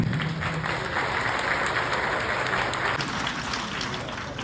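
Audience applause at a Karayogam centenary celebration in Kochi, Ernakulam: a sustained, dense wash of clapping from a large crowd, steady and loud throughout.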